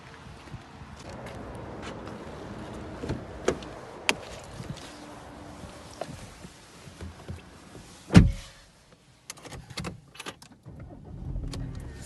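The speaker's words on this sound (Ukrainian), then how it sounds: "Також, як бачите, наявний електропривід та електроскладання дзеркал." Electric folding side mirrors on an Audi A4 moving with a faint motor whir inside a quiet car, followed by a sharp click and a few soft mechanical knocks.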